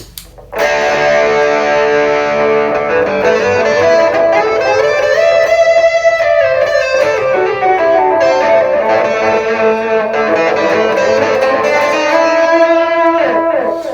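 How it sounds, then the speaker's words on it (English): Electric guitar through a distortion pedal plays sustained, fuzzy chords and notes, loud and close, with a thick saturated tone and no talking. "And then this is the tone with the distortion."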